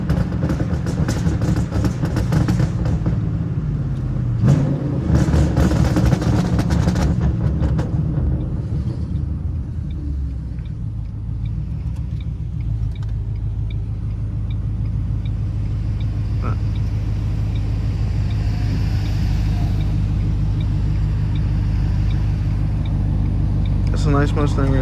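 A Ford Mustang 5.0 drives along with a steady low engine rumble, and a burst of louder revving and clatter comes early on. Someone talks over the engine noise for much of the time.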